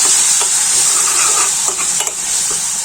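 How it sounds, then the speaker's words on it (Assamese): Spice masala frying with a little water in a pan for a potato curry gives a steady, close sizzle, with stirring scrapes and light knocks of a spoon against the pan throughout. "এইখিনি গোটেইখিনি দি ইয়াতে অলপমান ভাজি দিম আৰু অকমান পানী ব্যৱহাৰ কৰিম"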